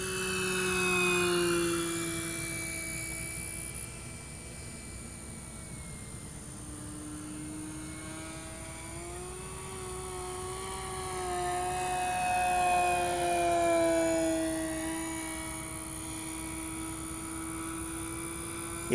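An E-flite Sportix 1.1 m radio-controlled electric airplane flies knife-edge passes overhead, its motor whine rising and falling in pitch as it sweeps closer and away, steady and moderately loud throughout.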